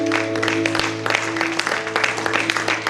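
Church congregation applauding, a dense patter of many hands clapping at moderate distance over a steady sustained organ or keyboard tone, lasting a few seconds.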